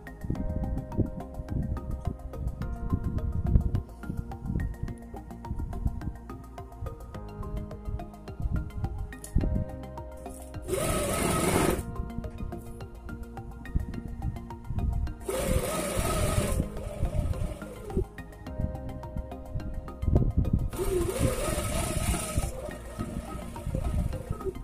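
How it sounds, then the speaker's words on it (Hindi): A sewing machine stitches fabric for a suit kameez, a continuous mechanical whirring that runs throughout, with a few brief louder rustling bursts. "ऊपर से सिलाई लगाएंगे"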